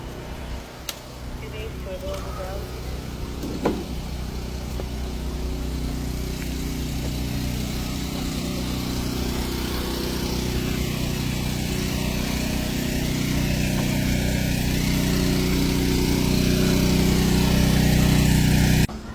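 Engine-driven pump running steadily and loud outdoors while dredging sediment from a zoo habitat pond through a 4-inch line feeding a 6-inch line, a continuous drone that swells slightly toward the end.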